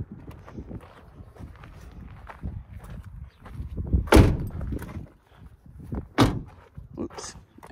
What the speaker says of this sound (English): I'm going to go around the back here and shut the back windows, the back doors, rather.